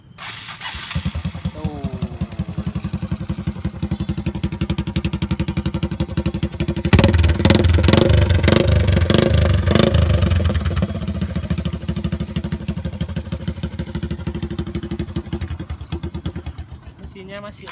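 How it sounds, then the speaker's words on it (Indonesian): A chopper motorcycle built with a moped engine cranks on its electric starter, catches with a loud burst of revving, then settles into a steady idle while someone talks over it. "Ini bisa teman-teman bisa tinggal starter doang nih"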